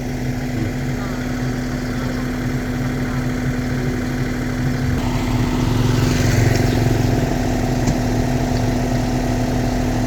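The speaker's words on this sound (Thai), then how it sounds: "เราก็จะ ใช้รถขุดขุดเปิดหน้าดินก่อนจะเอาท่อออกนะครับ" A Kubota KX033 mini excavator engine runs steadily nearby at a loud diesel idle with a constant low hum that rises slightly partway through; someone talks over it.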